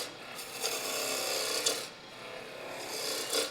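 A spindle gouge cuts a wooden finial spinning on a lathe, giving a steady close-up rasping scrape with brief surges of cutting and one short lull midway, no voices.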